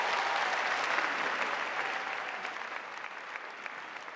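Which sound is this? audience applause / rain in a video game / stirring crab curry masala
audience applause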